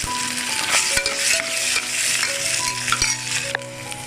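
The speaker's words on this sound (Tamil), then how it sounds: "இஞ்சி பூண்டு நல்லா வதங்கணும்." Ginger garlic paste is sautéed with onions in a pan for mushroom biryani, sizzling loudly and steadily while a utensil scrapes and taps against the metal in repeated strokes.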